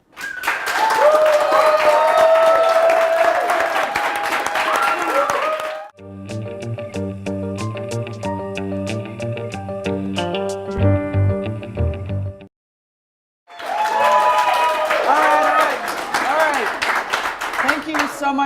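A studio audience on a talk show claps in loud bursts, once at the start and again after a short music bridge and a brief silence, with voices talking over the clapping.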